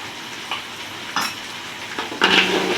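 Rice vermicelli (bihun goreng) being stir-fried in a pan in a home kitchen, with a steady sizzle broken by several scraping bursts of stirring and clinking spatula against the pan.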